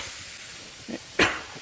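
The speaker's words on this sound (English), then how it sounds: "So I've added the meat." Meat frying in a pan with garlic, a steady soft sizzling hiss, broken by a short louder sizzle burst and then a sharp loud spurt of hissing near the end.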